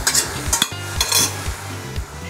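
Mince sizzling in a hot pan while being stirred, with repeated scraping strokes of a utensil against the pan over a steady frying hiss, loud and close, no talking.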